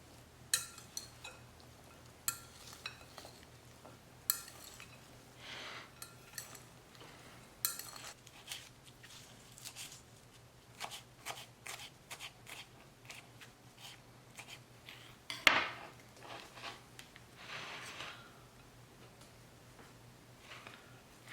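Cucumber salad seasoned with salt, roasted cumin and chaat masala, tossed in a bowl: soft repeated clinks and scrapes of a utensil against the dish, with wet rustles, close and quiet, and no talking.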